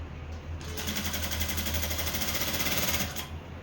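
A sewing machine stitches a kurti in one short, steady run, a close rapid rhythmic whirring and clatter starting and stopping abruptly, with no voices.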